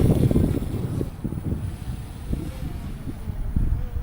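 Strong wind buffets the microphone in low, rumbling gusts that swell and ease throughout, with no voices.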